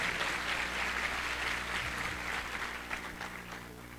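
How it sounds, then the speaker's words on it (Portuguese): A hall audience applauds at the opening ceremony of the 6th Freemind International Congress in 2019, with a steady wash of clapping over a low hum that tapers slightly toward the end. "Uma grande salva de palmas para ele."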